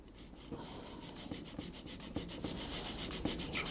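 Cotton swabs rubbing at glue residue left on a camera body where the grip was removed, a soft continuous scrubbing with faint scratchy strokes, close and steady, no voices.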